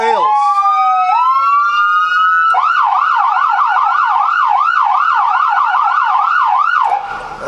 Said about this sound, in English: the siren works pretty damn good if you ask me